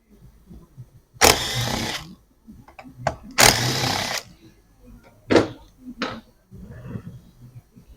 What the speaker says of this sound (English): your little T27s or Torx 27s, whiz these out